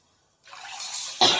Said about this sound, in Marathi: आणि अजून थोडंसं पाणी